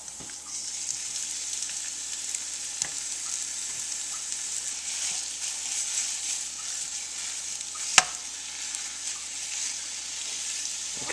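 Ground beef fries in a Ninja cooking pot with a constant close sizzle, broken by occasional scraping and a sharp knock from stirring.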